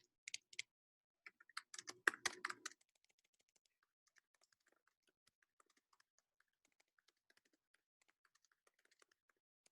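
Fingers type on a computer keyboard up close, with a quick flurry of clacking keystrokes followed by sparse, light, scattered key taps. No one speaks.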